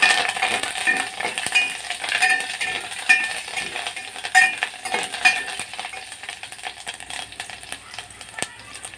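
Green chillies and curry leaves frying in oil with cumin, mustard seeds and asafoetida for a dhokla tempering: a soft continuous sizzle close by, with a spoon clinking against the pan now and then, and no talking.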